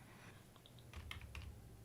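Quick typing on a computer keyboard with a handful of close, crisp key clicks in a short burst, faint and alone with no voices.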